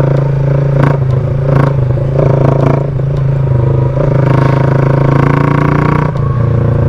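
A motorcycle with a modified exhaust runs loud and close with a raspy, throaty exhaust note, revving and surging in waves throughout.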